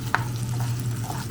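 Cut-up baby potatoes fry in butter in a pan with a soft, steady sizzle, a single utensil clack near the start, and a low hum underneath.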